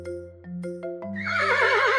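A horse neighs on a farmyard: a few short, separate whinny notes first, then a loud, wavering whinny with a shaky, trembling pitch that fills the last second, close and with no talk.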